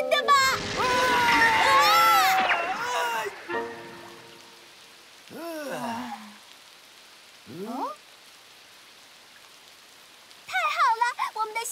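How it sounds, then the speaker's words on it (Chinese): Cartoon rain begins to fall as a steady, soft hiss spread beneath animated voices and background music, with quieter gaps between the lines of speech. "开始下雨了！"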